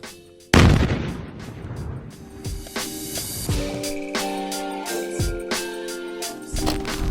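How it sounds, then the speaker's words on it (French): Mine-clearing device firing an explosive shell that detonates mines: a sudden heavy boom followed by a rumbling series of further blasts and debris crackle, with a steady musical tone running underneath. "Il projette un obus avec des charges explosives à l'intérieur, ce qui déclenche les mines dans une zone bien précise."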